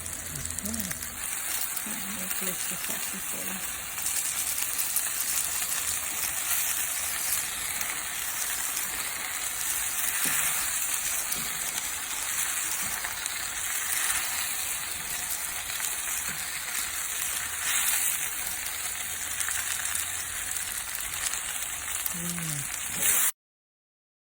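Food frying in coconut oil in a home kitchen, a continuous hissing sizzle like light rain that runs steadily for about twenty seconds before cutting off, with faint occasional background noises.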